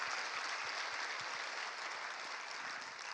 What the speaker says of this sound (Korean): 다시 한번 유병규 선교사님과 그 가족들에게 우리의 마음을 담아 감사의 박수 보내드리고